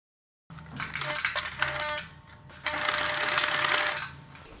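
Close, loud sewing machine stitching gathered skirt fabric on a drop-waist skirt, starting after a moment of silence, running in two bursts with a brief slowdown between them.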